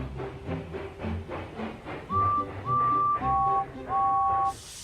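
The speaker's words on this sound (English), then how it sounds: "They were very surprised to hear Thomas whistle" A steam train whistle sounds several times in short bursts, loud and close, over the steady chuffing rumble of a moving engine.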